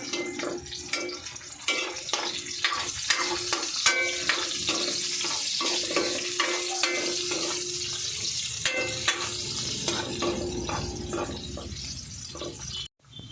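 Onions frying and being stirred in a pan, a steady broadband sizzle running throughout with repeated scraping and clinking strokes of the utensil, close and fairly loud, no talking.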